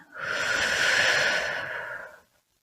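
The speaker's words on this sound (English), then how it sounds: "taking a deep breath in and a deep breath out" One slow, deep breath drawn in and let out through the nose and mouth, close and airy, swelling and fading over about two seconds before quiet.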